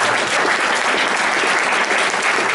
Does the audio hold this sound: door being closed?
no